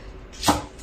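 A single crisp chop of a kitchen knife through food on a cutting board, close and brief, with quiet room tone before and after.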